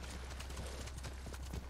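Horses' hooves clip-clopping in the video game Ghost of Tsushima, a faint, steady patter of several animals moving at a walk, heard alone without talk.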